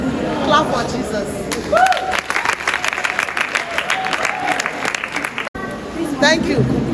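A church congregation claps in a broad, sustained burst of applause lasting several seconds, with crowd murmur and a voice speaking over it.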